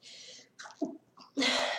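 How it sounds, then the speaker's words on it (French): A close sneeze: a breathy intake and a short gasp build up, then a sharp, loud burst ends it. "Je vais éternuer."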